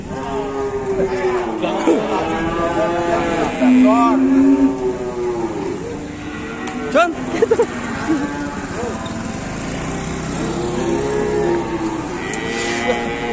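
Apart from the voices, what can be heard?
raging cattle mooing loudly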